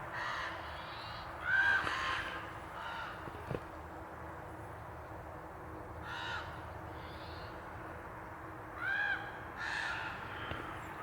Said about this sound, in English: Listen to these 2 crows.